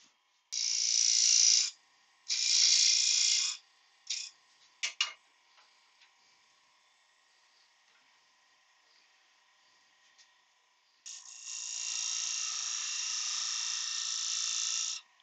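A small bevel is worked onto a drinking flask stopper: two short rasping strokes, a few quick scrapes, a quiet pause, then one longer steady stroke, all close and alone.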